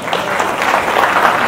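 An audience at a religious sermon gives a brief, loud burst of dense clapping that holds steady the whole time.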